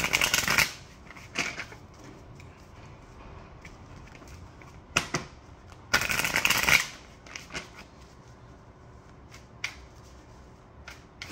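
Tarot cards shuffled in bursts, with two loud riffling runs near the start and middle and softer shuffles between, close by with no talking.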